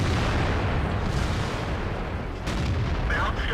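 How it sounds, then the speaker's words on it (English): A German E-50 medium tank in World of Tanks fires its gun at a T-28 prototype, heavy booming shots over a steady rumbling engine and battle noise, with a sharper crack near the end. "I tried to take a shot on the T-28 prototype"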